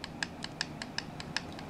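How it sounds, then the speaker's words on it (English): Backlash noise from an unmeshed worm gear on a Skywatcher AZ-GTI mount, about eight evenly spaced light clicks in quick succession, close and fairly faint. "So this is the noise of backlash."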